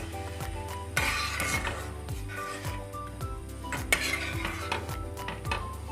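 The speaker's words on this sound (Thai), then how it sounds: "คนให้เข้ากัน" Spicy miso beef tripe hot pot soup gets stirred in a pot, with repeated utensil clinks and scrapes against the pot over a soft sizzle, close by and with no talk.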